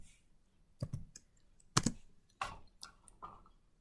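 Scattered bursts of typing on a computer keyboard, a few sharp clustered key clicks separated by short pauses, close and fairly quiet, with no talk.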